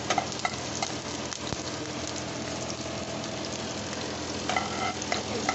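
Finely chopped onion sizzling in hot oil in a pan while it is stirred, a steady close crackle with occasional scraping of the spoon against the pan.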